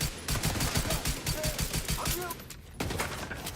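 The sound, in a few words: gunfire from the video game The Division 2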